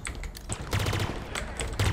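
Rapid automatic gunfire in the video game Halo Infinite, quick stuttering bursts close and loud, separated by short pauses and faint clicks.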